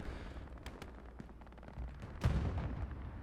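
Artillery fire rumbles in Hell Let Loose on a Stalingrad battlefield, faint distant booms and scattered gunfire rising to one heavier blast partway through.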